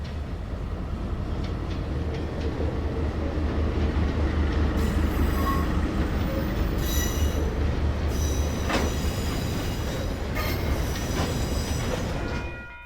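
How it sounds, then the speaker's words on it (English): Coal train hauling from the Rotorua open cast mine to the steel mill at Mission Bush, passing close with a loud, steady rumble of wagons, wheel clatter and high squeals toward the end. "Coal from the Rotorua open cast mine is destined for the steel mill at Mission"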